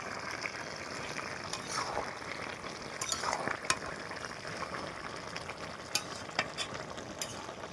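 Chicken kosha gets stirred in a pan once the lid is off, soft low sizzling under sharp intermittent clinks and scrapes of a spatula against metal, fairly quiet and close, with no speech.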